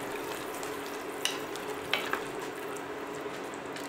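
Food being stirred in a pot of hot water on a home stove, a steady simmering hiss with a few soft scrapes and clicks of a utensil against the pot, close and unaccompanied by speech.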